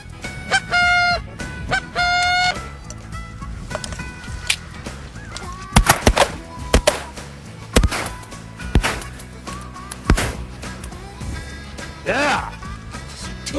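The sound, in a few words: blue geese honking in flight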